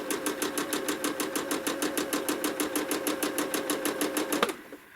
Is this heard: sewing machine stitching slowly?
yes